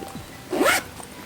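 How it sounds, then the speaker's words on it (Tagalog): Zipper on a Loewe luxury bag pulled quickly along its side, a single short raspy zip heard close up against near silence. "there is a zipper so you can open and then close it"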